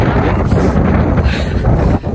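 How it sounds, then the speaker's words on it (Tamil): Strong wind buffets the microphone beside Loch Lomond in Scotland, a loud, steady roaring rush with gusty fluctuations throughout, no other sounds standing out. "செம்மையாக காற்றடிக்குது"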